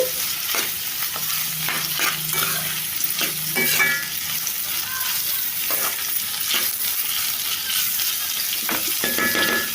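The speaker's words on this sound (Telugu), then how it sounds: "ఇప్పుడు కొద్దిగా ఉప్పు వేసుకొని ఒకసారి కలిపేసి మూత పెట్టేసుకొని మగ్గించుకోవాలి" Chopped ivy gourd pieces with a pinch of salt being stirred in a hot pan, a steady sizzle under scraping spoon strokes and occasional metallic clinks, close and continuous with no voices.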